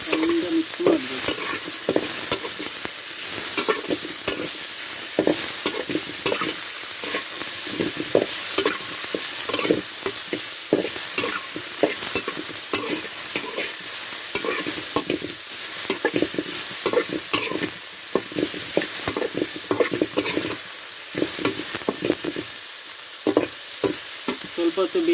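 Chopped tomato fries with dry fish in a pan, a steady loud sizzle broken by frequent scraping, clattering strokes of a spoon stirring the mixture close by, with no voices throughout.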